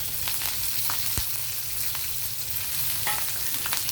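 Cumin, garlic, curry leaves, green chillies and coriander fry in hot oil with a continuous close crackling sizzle, dotted with small pops and the occasional scrape of stirring.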